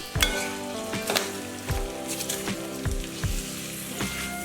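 Pork sizzles and spatters in a hot pan with ginger-garlic paste for a pork and ash gourd curry, loud close frying with a few sharp clanks of stirring and no voices.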